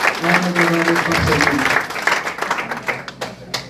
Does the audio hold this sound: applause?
yes